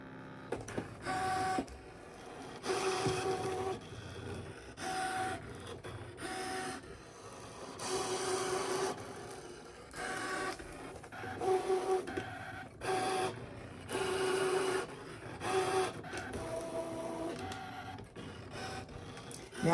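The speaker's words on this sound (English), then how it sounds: "So now it's going to cut on, again, an auto blade. It's determining how many passes and how thick it is." A Brother ScanNCut machine cuts transfer paper with its auto blade, a mechanical whirring and buzzing that starts and stops in short bursts of motor movement over about twenty seconds, close and alone.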